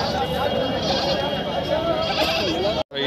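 A Black Bengal goat kid bleats at a Tuesday livestock market in Patna, a wavering cry heard over crowd chatter and nearby talk, with a sudden cut near the end.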